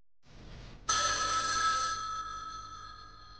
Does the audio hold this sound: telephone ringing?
yes